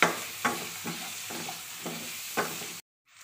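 Thinly sliced onions for a squid roast frying in a pan, a soft steady sizzle broken by several rhythmic scraping stirs, then cutting off abruptly into near silence.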